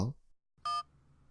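A telephone call sound effect: a short burst of electronic dialing tones follows a brief low murmur, then a quiet hum lingers.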